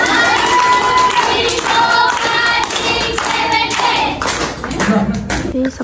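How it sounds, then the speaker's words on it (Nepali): An audience at a dance studio's eighth anniversary celebration in Nepal claps in rhythmic unison over music, with voices and shouts mixed in; the clapping is loud and fills the room. "ल 8 चोटि ताली बजाइदिनु सक्छ"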